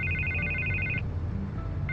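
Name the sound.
telephone ringing in Batman: The Telltale Series video game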